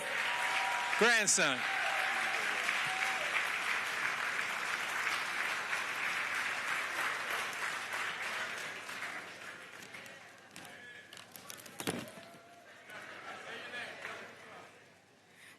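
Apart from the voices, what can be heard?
audience applause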